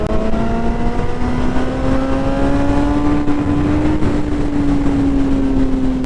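A motorcycle engine drones loudly and continuously while riding, its steady pitch rising gradually throughout.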